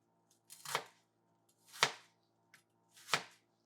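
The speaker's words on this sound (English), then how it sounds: "This was about like I would say a medium-sized onion that I've just chopped up" A knife chops through a medium onion on a cutting board in three separate sharp strokes, each a crisp close knock spaced about a second apart, with quiet between them.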